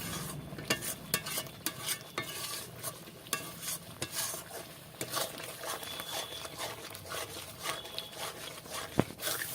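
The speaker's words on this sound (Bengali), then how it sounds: "সেটা গুঁড়ো হলুদ দিয়ে দিলাম আর একটু ভালো করে এটাকে কষিয়ে নিতে হবে" Rohu fish korma masala with turmeric stir-fried in a pan, busy scraping and clattering strokes of a spatula over a quiet sizzle, fairly soft and without talk.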